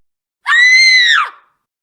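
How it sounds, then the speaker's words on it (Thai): A fox demon woman's scream of anger in a Thai horror tale, one loud, sustained, shrill cry lasting under a second that rises abruptly and trails off with a downward bend. "นางจิ้งจอกกรีดร้องออกมาด้วยความโกรธ"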